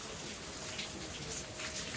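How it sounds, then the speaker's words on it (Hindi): Rain falls steadily on a morning street while heading to college, a continuous soft hiss of drops with scattered brighter patter, even and moderately faint throughout with no talking. "फिर से बारिश चालू हो चुकी है"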